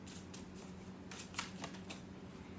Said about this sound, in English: I'm going to use the Tarot of the Vampires for you because, gosh, everyone's pulling the devil. I don't know what it is. And I've shuffled that deck a lot